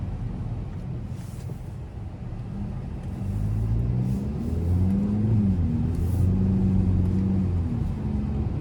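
A 2025 Hyundai Elantra N Line with a 1.6-liter turbocharged four-cylinder accelerates from inside the cabin. Its steady low rumble rises and grows louder after a few seconds, with rising engine tones and no talk.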